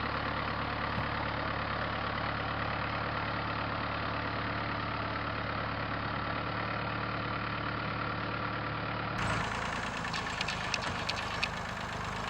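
An old Massey tractor fitted with a front shovel idles steadily, with a constant close engine drone and no voices. The engine note shifts abruptly near the end.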